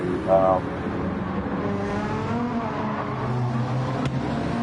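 A Gr.3 Corvette race car engine in a racing video game drones loudly and continuously, its pitch wavering slightly as it holds a steady high-revving roar.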